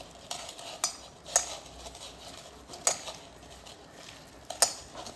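A spoon beating an egg in a bowl for a potol (pointed gourd) recipe: sharp metallic taps recur every second or so against a soft, steady stirring swish, close and clear, with no talking.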